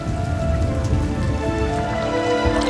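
Rain falling steadily in the Tsurumi mountain area near Beppu, a dense continuous patter of drops that holds level throughout, with a faint hum of tones beneath and no talking.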